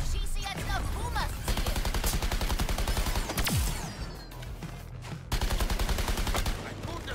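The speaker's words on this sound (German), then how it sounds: "Ich schieße jetzt auf Humas" Rapid bursts of automatic gunfire in the Suicide Squad Kill the Justice League video game come in loud, dense volleys with brief gaps, sitting over in-game sound effects.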